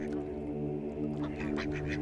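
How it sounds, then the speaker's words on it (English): Migratory birds on a saline desert lake, a Ramsar wetland in Tharparkar, with a few duck-like quacks rising over a steady low background hum. "Migratory birds from as far as Siberia."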